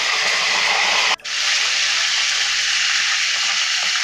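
About five tablespoons of hot oil sizzling in a pan, ready for sliced onions for a chicken dish, a loud steady hiss close by with one brief dip before it resumes.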